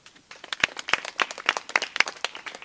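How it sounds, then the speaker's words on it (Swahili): Audience at a school certificate ceremony clapping for a student, a brief burst of sharp, uneven handclaps from a modest crowd, fairly close and without talk. "Pigie makofi."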